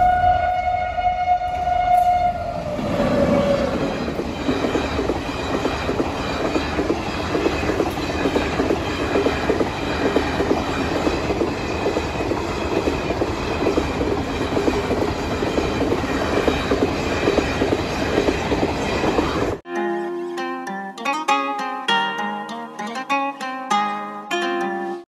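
A train passes a railway crossing on a highway journey in India, its loud, steady rumble and wheel clatter continuing for about twenty seconds before cutting abruptly to a musical passage.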